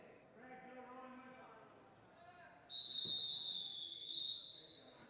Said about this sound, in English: that's the second official whistle.